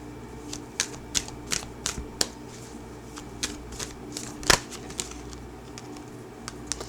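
Tarot cards being shuffled, a quick series of crisp riffling bursts and sharp snaps at an uneven rhythm, close and fairly quiet, with no voices.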